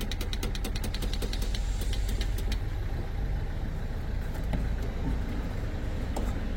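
A Renault 1.5 dCi 110 hp diesel car engine idling, a steady, fairly close clattering rumble with rapid ticking knocks, continuous and even throughout with no talk.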